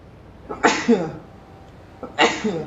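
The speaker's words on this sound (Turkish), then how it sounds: "hapşıracağım" Two sharp, loud sneezes about one and a half seconds apart, each with a quick inhaled buildup before the burst.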